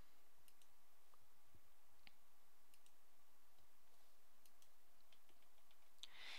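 A computer mouse clicks a few times, sparse and faint, over a quiet steady background hiss.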